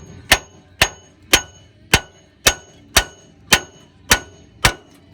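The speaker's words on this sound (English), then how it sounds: "All right, a couple whacks with the hammer." Hammer whacks on a ball joint of a 2006 Ford F-150 4x4 during front suspension work, nine sharp metallic strikes at an even, steady pace, close and loud.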